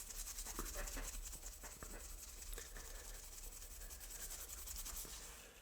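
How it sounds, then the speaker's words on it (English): A Scotch-Brite pad scuffs the clear coat on a small Hot Wheels die-cast car, a soft continuous rubbing and scratching, quiet and close, with no talking over it. "you need to scuff this clear coat up a little bit. So we're going to do that with a little Scotch-Brite."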